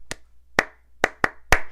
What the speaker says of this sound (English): we're going to start off clapping